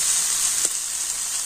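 Potatoes and boiled peas with salt and spices frying in a pan over a clay stove for veg patties, a steady close hiss with one faint stirring scrape partway through.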